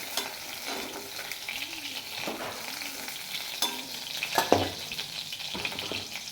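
Catla fish pieces sizzle in hot oil in a wok with a continuous crackle, broken by occasional scraping and clinking as they are stirred.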